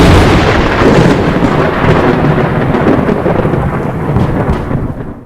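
A thunderstorm sound effect plays loud and dense: a heavy, rolling rumble of thunder over steady rain that fills the whole stretch and eases slightly toward the end.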